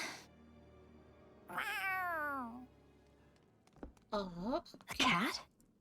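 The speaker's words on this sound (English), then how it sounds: "A cat? Where'd it come from?" Cat meows from Tales of Arise, several drawn-out, pitch-bending cries near and fairly loud, the first long and falling, followed by two shorter rising-falling mews, with a brief voice before them.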